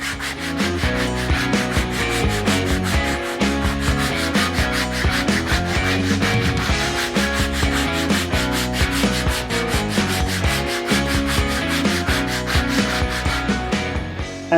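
Sandpaper pulled steadily along a carved wooden guitar neck, a continuous loud rasping rub in fast, even strokes, very close and filling the whole stretch without pause or talking.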